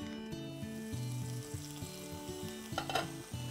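Corn and saag cook in a covered pot with a steady soft sizzle and bubbling, continuous and close, alongside a faint background music tone.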